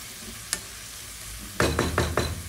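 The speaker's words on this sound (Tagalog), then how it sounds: "Gisa natin ulit. Ilagay na rin natin yung shrimp cubes." Shrimp cubes being stirred and sautéed in a hot pan, a sharp scrape early on, then several quick stirring scrapes over a steady background sizzle.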